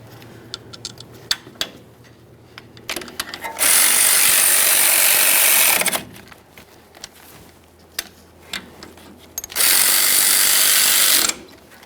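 A power tool on a 2015-2020 Ford F-150's front brakes runs in two loud bursts, snugging the caliper mounting bolts, with scattered clicks and clanks of handling between and no talk.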